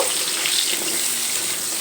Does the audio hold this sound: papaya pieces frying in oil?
yes